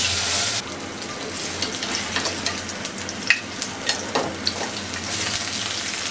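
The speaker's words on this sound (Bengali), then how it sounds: "সবগুলো এভাবে ভেজে নেব" Banana flower fritters frying in hot oil give a steady, close sizzle with crackles and a few sharper pops, and the sound softens slightly after the start.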